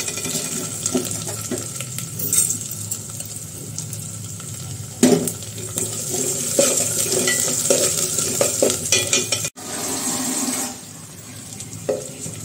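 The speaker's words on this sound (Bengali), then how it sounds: "সরিষার তেলে রান্না করতেছি আমি। এখন দিয়ে দিব মুগের ডাল।" Mung dal going into hot mustard oil and being stirred in a pan, sizzling and frying with scraping stir strokes and clinks, steady and close, with a short break near the end and no talk.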